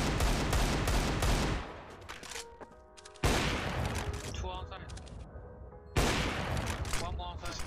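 Gunshots in a competitive shooter game, with dense rapid fire at the start and two later loud bursts, mixed with other game sounds.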